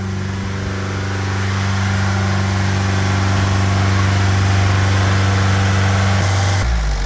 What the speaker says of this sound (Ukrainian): Щойно спрацював вентилятор